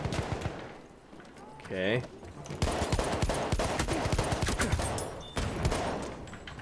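Rapid gunfire from Battlefield 1 team deathmatch crackles almost nonstop in dense bursts, briefly easing before resuming, with a short spoken word and distant battlefield noise mixed in.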